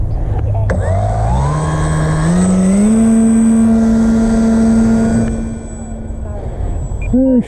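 Electric motor of a Conscendo RC glider spooling up outdoors, a whine climbing steadily in pitch over a few seconds, holding a strong steady tone, then cutting off as the glider is launched, with faint outdoor noise after.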